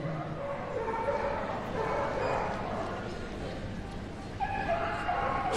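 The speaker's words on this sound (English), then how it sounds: "Shetland sheepdog, 4 years of age" A Shetland sheepdog at an agility competition gives a few yips and barks in a busy arena, partly masked by constant crowd noise and a commentator talking.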